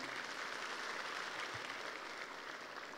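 Sustained applause from an audience at an Indonesian business motivational seminar, a steady dense wash of many hands clapping at moderate distance, holding evenly throughout with no speech over it.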